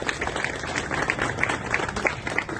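At a World Heart Day medical check-up event for home guards, an audience claps to welcome the doctors: a brief, soft, scattered patter of many hands, heard from some distance.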